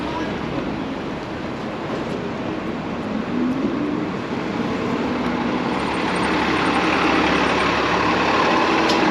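Constant engine rumble and road noise from New York City traffic on 34th Street. The din is broad and steady with no distinct breaks, as if heard from inside the moving flow of traffic.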